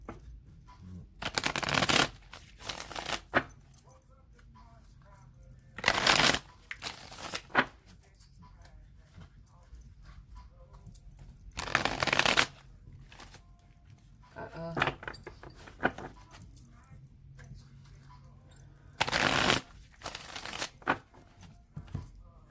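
Several quick bursts of cards being shuffled, riffled in short rounds with quiet pauses between them.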